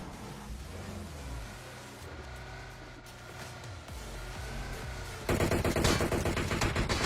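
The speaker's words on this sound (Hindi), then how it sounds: "पीछे से फायरिंग पड़ने लगते हैं" Gunfire in the PUBG Mobile battle royale game at a military base, with rapid automatic bursts over a dense, constant wash of game noise that grows louder and harsher near the end.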